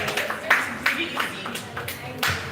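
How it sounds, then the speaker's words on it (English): Scattered applause for a real estate speaker during a live session: a few loose, irregular claps, some louder than others, mixed with voices talking underneath. "a round of applause for the Realtor General of Abuja"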